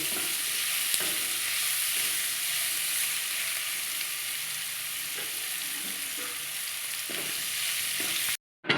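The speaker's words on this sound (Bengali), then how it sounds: "এবার আমি এই চিকেনটা দিয়ে দেব। চিকেনটাকে একটু আমি কষিয়ে নেব।" Chicken pieces fry in hot oil in a kadai while being stirred, giving a steady, close, loud sizzle with faint scraping strokes throughout, cutting off abruptly near the end.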